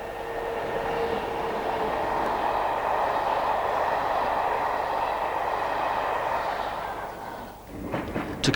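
A double-headed train hauled by two Class 73 locomotives rumbles past loudly and close with a steady roar. It fades toward the end, leaving a few rail clatters.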